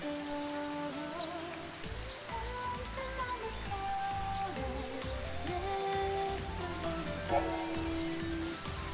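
Continuous rainfall in Final Fantasy XIII's Sunleth Waterscape, an even, unbroken hiss of rain blended with sustained musical tones throughout.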